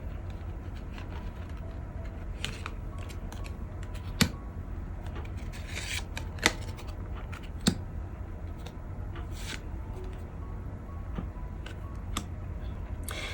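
Tarot cards shuffled and laid out during a reading, a steady soft rubbing and sliding of card stock with a few sharp taps as cards land, close and fairly quiet with no voices.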